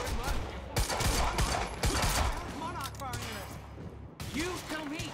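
Rapid bursts of gunfire crackle amid sound effects in the video game Quantum Break, with shouting voices over the shots.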